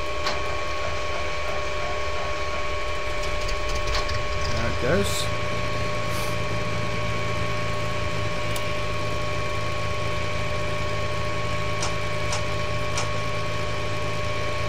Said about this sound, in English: Start the left engine.